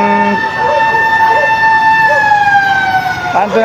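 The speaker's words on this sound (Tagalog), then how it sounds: "Dumating na bumbero ngayon guys, siguro dalawa pa lang." A loud, steady fire truck siren wails continuously with a slowly falling tone at a fire in Pasig City, with a voice talking over it.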